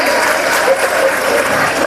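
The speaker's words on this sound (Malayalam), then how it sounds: "നല്ലൊരു കൈയടി കൊടുക്കാം നമ്മുടെ മാർഗംകളി കളിച്ച കലാകാരികൾക്ക്." Audience applause after a margamkali dance performance at a church annual day, with a dense, loud burst of clapping filling the whole moment.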